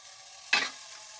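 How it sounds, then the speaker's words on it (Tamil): Tamarind water poured into a hot pan of spiced bitter gourd curry gives one sudden loud hiss that quickly fades back into a quiet steady sizzle, with no voices. "புளி கரைசல் சேர்த்துக்கலாம்."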